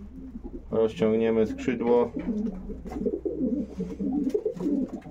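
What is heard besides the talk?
racing pigeon cooing while being handled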